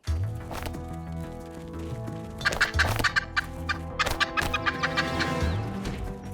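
Several male turkeys squaring off over scattered corn gobble in rapid, overlapping bursts with clucking mixed in, fairly close and continuous throughout.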